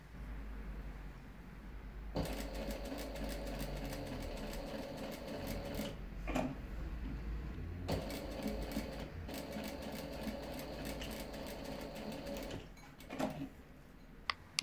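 A sewing machine stitching a cross onto a WW2 combat medic armband, fairly quiet, running in steady rapid bursts separated by brief pauses and small clicks.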